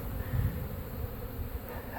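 Dense, steady buzzing of a swarm of honeybees at an open backyard feeding frenzy, a continuous close drone with low rumbling swells and no voices.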